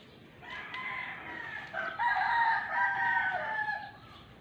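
Roosters crow on a small provincial farm in the morning, several overlapping drawn-out calls at moderate distance with no talking over them.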